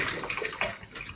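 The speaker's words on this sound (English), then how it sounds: "Let's drain them out." Brine pours and splashes out of a food-safe bucket of black Kalamata olives, a steady watery rush with a brief gurgle, close and fairly quiet, with no talking.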